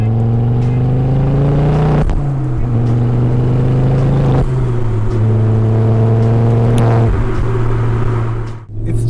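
A Ford Focus RS Mk II engine rumbles steadily at close range, its pitch rising and falling as it revs repeatedly, with no talking over it.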